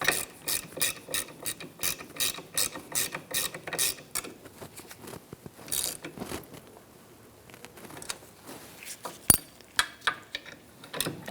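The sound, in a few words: ratchet tightening a bolt on Honda CR-V wheel hub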